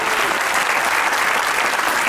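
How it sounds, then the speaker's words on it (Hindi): A studio audience at a Pakistani comedy talk show breaks into loud, continuous applause, a dense wash of clapping that stays steady throughout. "तालियां बजाइए"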